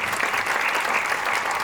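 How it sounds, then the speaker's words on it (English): Audience applause at an artist conversation panel, a steady dense wash of clapping throughout the short moment, close and loud. "I hope you're all voters out there applauding us here."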